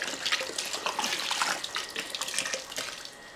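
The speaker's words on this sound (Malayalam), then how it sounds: "നമ്മൾ ഒരു മൂന്ന് കുപ്പി വിനാഗിരി ഒഴിക്കുന്നുണ്ട്" Vinegar from bottles glugging into a big batch of loobikka pickle, a short burst of splashing, bubbly pouring with quick irregular gurgles, close and moderately quiet, no voices.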